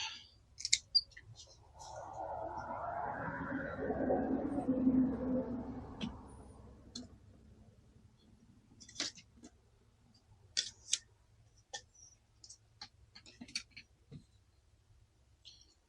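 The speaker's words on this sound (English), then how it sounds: "I'm just gonna snip that root off." Scissors snip plant roots in a greenhouse, making a few sharp, quiet clicks early on and more scattered snips later, with a soft rustle in between.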